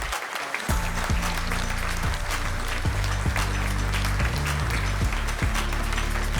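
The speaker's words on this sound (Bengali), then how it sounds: "সবাই মিলে জোরদার করতালি।" Sustained audience applause at a Bengali panel event, a dense wash of clapping after a brief quiet start, with steady low electronic tones running underneath.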